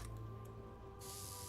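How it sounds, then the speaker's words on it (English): Several quick squirts from a spray bottle misting a smooth polished surface, a couple of short hisses followed by a longer, brighter spray near the end, close and quiet with no talk. "How many times do I have to spray it?"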